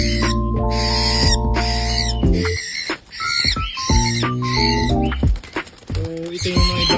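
A cockatiel gives loud, shrill, repeated whistling calls and squawks while held in a person's hand during breeding-care handling, with bursts of varied pitch close to the microphone.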